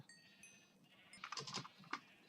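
Sheep bleating in the Minecraft video game, several short wavering bleats in quick succession, close and fairly quiet, with no talk over them.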